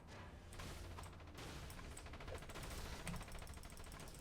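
Rapid automatic gunfire from turrets in the DC Universe Online video game, a steady stream of overlapping shots sustained throughout at a low, distant level.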